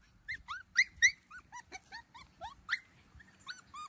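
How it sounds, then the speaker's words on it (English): A Schnoodle puppy in an outdoor pen growls and whimpers in a string of short, high, squeaky yips and whines, close and fairly faint, with no talking. "That's the turquoise collar puppy growling at me."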